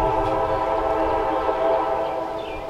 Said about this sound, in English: the train's here